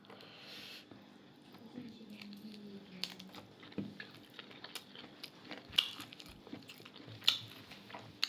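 Soft, close-up crunching and chewing of chili in quiet, irregular bites, with a few sharper crisp snaps standing out against a low background.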